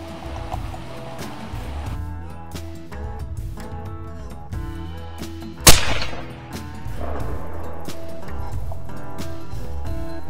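A single sharp suppressed rifle crack rings out near a beaver's pond, standing out mid-clip over background music and a voice.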